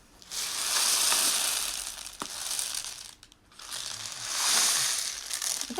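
Homemade rain stick of a paper tube filled with rice and tin foil being tipped, giving two long swelling waves of rattling, crinkly hiss that rise and fade, close and fairly quiet.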